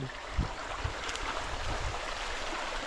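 A creek runs through a farm lot, making a steady, moderate rush of flowing water with a few low gurgles near the start.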